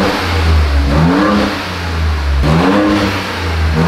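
A 2021 Ford Bronco engine with its muffler disconnected revs loudly up and down twice, a deep rumbling exhaust rising and falling close by with no talk.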